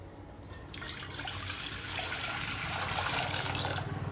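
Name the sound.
water being poured into a container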